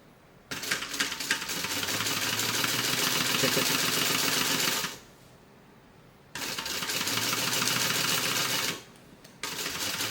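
A sewing machine stitches down the side of a bag in two fast, steady bursts of rapid clatter, with a short quiet pause between them and no talking.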